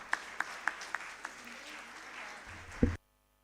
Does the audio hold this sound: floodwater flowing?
no